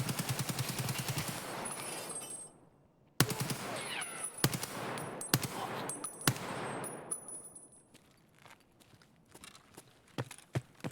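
Gunfire in the Escape from Tarkov shooter game. Sharp individual shots and short bursts crack out irregularly over a muffled, rumbling background, some close and loud, others fainter.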